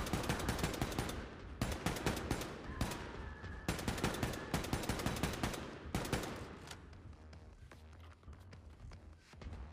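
Rapid bursts of automatic gunfire in the video game Wolfenstein II: The Freedom Chronicles, loud and dense, with repeated volleys that stop and start across the whole stretch.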